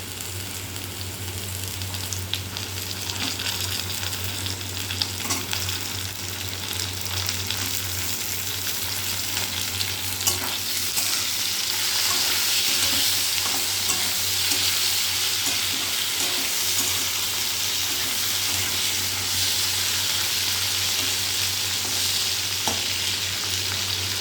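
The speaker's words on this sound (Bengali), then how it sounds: "ভেন্ডিটা হালকা হালকা ভাজা করে নেব" Okra frying in a pan gives a steady, dense sizzle that lasts throughout, with a low hum underneath and occasional faint clicks of stirring.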